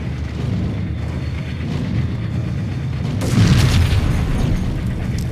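A grenade launcher explosion in Max Payne, a loud, deep rumbling boom that swells midway and keeps roaring, with no talk over it.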